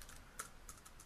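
Computer keyboard typing while entering code, a few faint, quick key clicks at close range, isolated taps over a quiet background.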